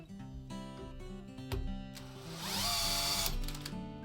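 A DeWalt drill with an electronic clutch, set to clutch 1 and speed 3, whirs steadily with a rising motor whine, then its clutch trips off with a brief click near the end.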